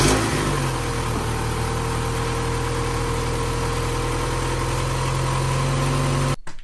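A budget sports car engine idles after a cold start on a freezing morning, running steady and even with a low hum and no rattles, then cuts off abruptly near the end.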